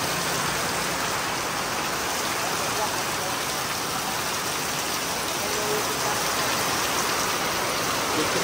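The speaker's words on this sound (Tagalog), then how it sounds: "Palamig kami sa mainit na ulan." Steady rain falls during a motorbike loop ride in Negros, Philippines, a dense continuous hiss of drops that stays loud and unchanging throughout.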